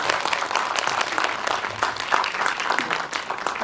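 An audience at a post-screening talk with director Kim Tae-yong and actress Yoo In-young applauds the cast, a steady dense wash of many hands clapping, moderately loud and sustained throughout with a faint voice or two underneath.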